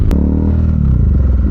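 Bajaj Dominar UG2 motorcycle fitted with a Two Brothers aftermarket muffler, riding at steady speed on a road: a loud, continuous low exhaust drone with a brief clatter near the start.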